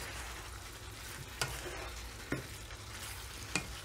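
Stir fry sizzles steadily in a hot pan, with a spatula scraping and tossing the food in three or four sharp strokes over a continuous bright crackle, close and alone.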